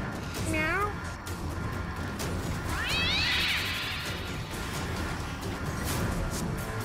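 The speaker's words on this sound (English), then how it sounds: "Meow." A cartoon cat meows in South Park: The Fractured But Whole, with two or three short rising meows under steady game background noise and other sounds.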